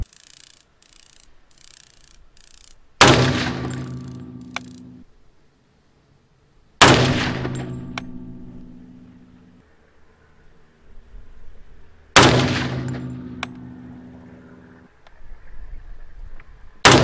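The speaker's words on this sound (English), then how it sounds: "Now let's go ahead and do 5 shots and see what happens." An M1 Garand rifle fires three loud, sharp shots spaced about four to five seconds apart outdoors, each with a sudden blast and a long rumbling decay.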